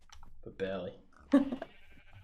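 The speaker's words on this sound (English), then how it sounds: "Why are the sheep in with the cows?" Sheep bleat in a Minecraft farm pen, two short wavering bleats, the second louder, with a voice speaking over the game sounds.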